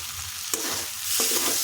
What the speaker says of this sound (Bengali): 4 থেকে 5 মিনিট আলুটা খুব ভালো করে ভেজে নিলাম।